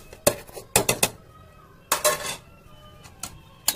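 A spoon scrapes and knocks against a cooking pot of mutton curry with potatoes, giving several sharp metallic clinks in short irregular bursts, close by and moderately loud, separated by brief quiet gaps.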